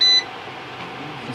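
Outwell induction hob on a camping setup giving a short high electronic beep at its automatic cut-off once the pan is lifted, followed by a low quiet hum.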